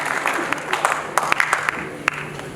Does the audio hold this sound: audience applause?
yes